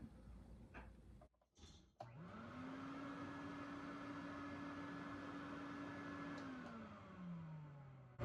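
A 1958 Eureka vacuum cleaner motor starts up with a click and whines into a steady, loud drone, then winds down slightly near the end.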